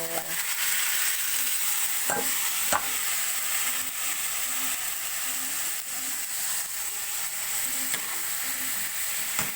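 Chayote and carrots sizzle steadily in a hot pan as a utensil scrapes and stirs in repeated soft strokes, close and continuous with no talking.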